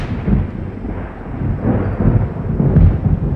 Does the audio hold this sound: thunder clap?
yes